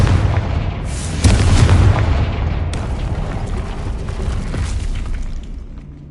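A Confringo fire spell in the Hogwarts Legacy video game bursts with a loud booming blast, followed by a second explosive crack and a rumbling tail that slowly fades.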